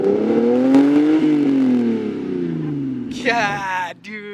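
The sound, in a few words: Lexus LS400 engine revving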